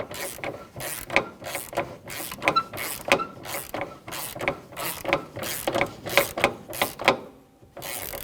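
A ratchet with a 13mm socket and extension tightens the battery hold-down bolt on a 2007-2017 Jeep Patriot, giving a close, steady series of sharp clicking strokes in a quick, even rhythm with no talking.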